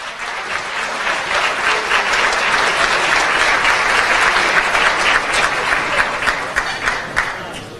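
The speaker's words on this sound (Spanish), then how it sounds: "Un fuerte aplauso." An audience at a CADE conference on citizen participation and democracy claps steadily and loudly for several seconds, a dense, sustained applause with no voices over it.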